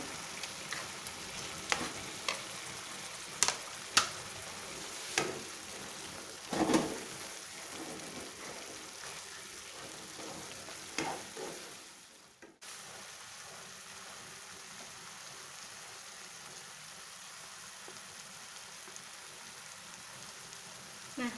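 Chicken pieces frying in a hot pan for Padang-style gulai, a steady close sizzle with scattered crackles and stirring scrapes, calming to a quieter even hiss in the second half.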